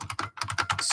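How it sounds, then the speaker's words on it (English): Quick keystrokes on a computer keyboard as a filter name is typed in by hand, a rapid string of close, crisp taps with one tiny pause. "I'm just going to manually type it in."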